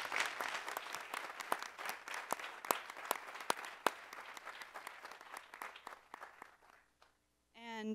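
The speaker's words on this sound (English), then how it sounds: "So if we could give her a round of applause." A town meeting audience in Hinesburg gives a round of applause, dense steady clapping from a room full of people that tapers off, followed by a brief pause and a voice starting to speak.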